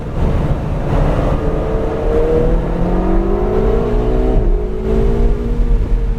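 A Ferrari 488 GTB laps a race track, its engine a loud, close, sustained drone with rising pitch as it accelerates, briefly dipping at a shift before climbing again, over steady wind and road roar.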